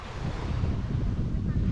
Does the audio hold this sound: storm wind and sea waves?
yes